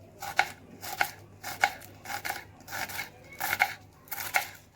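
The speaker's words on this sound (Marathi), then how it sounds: "आता मोठे मोठे स्लाईचे कट करून घेऊया आपण कांदे" Onions are cut into large slices with a knife on a board, about eight crisp, evenly spaced chops heard up close with no one talking.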